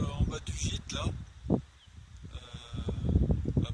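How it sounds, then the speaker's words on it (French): Goats bleat near a rural gîte in the afternoon, with short calls rising out of rustling and a person's voice speaking softly near the microphone. "Coucou les chèvres."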